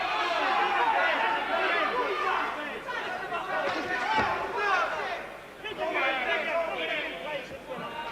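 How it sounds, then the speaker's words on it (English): A boxing arena crowd booing the referee, a loud sustained wash of jeers and crowd noise with a commentator talking over it. "they're booing the referee, not Hamed."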